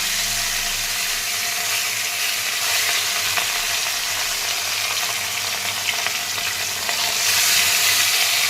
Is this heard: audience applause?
no